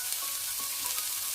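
Onions and prawns frying in a pan with turmeric and salt, a brief, even hiss of sizzling oil with faint crackles and no talk.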